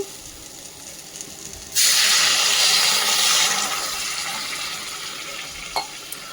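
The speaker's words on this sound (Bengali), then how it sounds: "এতে দিয়ে দিলাম জল" Water is poured into a hot pan of spiced potatoes for veg kofta curry. A quiet sizzle gives way to a sudden loud rushing hiss that slowly fades, then a small clink near the end.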